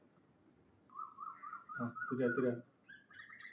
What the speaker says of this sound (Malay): Dia bising, dia cari pasangan.